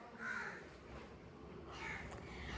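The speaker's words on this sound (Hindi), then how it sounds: "ये कौवे को मैं मार दूंगी कसम से" Two distinct crow caws ring out, one near the start and another toward the end, moderately loud over a faint steady background hum with no talking.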